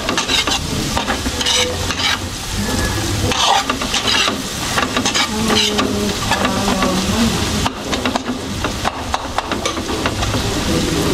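Steady loud sizzling and frying with scraping spatula stir strokes as fried rice (chao fan) is stir-fried in a pan, continuous throughout, no talking.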